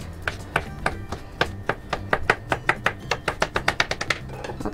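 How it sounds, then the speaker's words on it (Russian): Knife chopping carrots on a cutting board, a close, loud run of sharp rhythmic taps that speeds up into a quick steady beat, with no talking. "теперь нарежем морковку и посмотрим по количеству"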